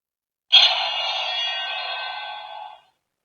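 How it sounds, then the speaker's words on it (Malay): Sword-opening sound effect from a Bujin Sword buckle toy: a single bright, sustained electronic chime-like tone that starts abruptly, holds for about two seconds and cuts off, with silence around it. "ni bunyi buka pedang"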